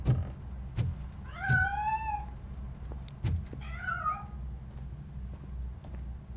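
A cat in the video game Robocop Rogue City meows twice, two rising and falling calls close by, separated by a short pause, with soft thumps and faint background ambience.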